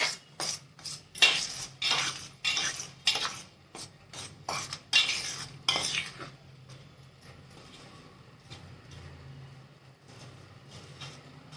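A spoon works dough of rice flour and split roasted gram in a bowl, with rhythmic scraping clinks against the bowl sides that are loud and regular at first, then fade to softer, sparser stirring.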